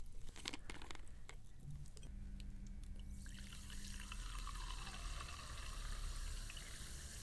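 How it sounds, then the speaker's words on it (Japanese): Carbonated water poured into a cup, a steady splashing pour that turns into a bright fizzing hiss as the bubbles rise, heard alone without talk. "続いては炭酸水いってみましょう。カップに注いでいきます。"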